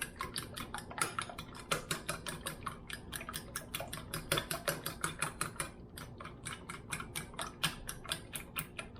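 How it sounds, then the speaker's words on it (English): Eggs whisked in a bowl for a butter-cooked keto omelet, a fast, steady run of sharp metallic clicks and taps, close and fairly loud, with no talking. "And I like to just whisk different ways"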